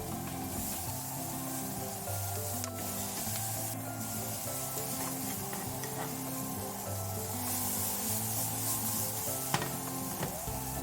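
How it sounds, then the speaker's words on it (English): Half a red onion, browned garlic already in the pan, stirred until caramelized: a steady, even sizzle with soft scraping and rubbing strokes runs throughout, close and constant beneath a layer of background music. "Add in 1/2 red onion and stir until caramelized."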